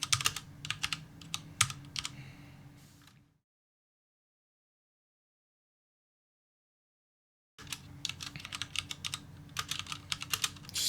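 Code being typed on a computer keyboard: rapid, irregular key clicks up close, broken by a silent gap of several seconds before the tapping resumes.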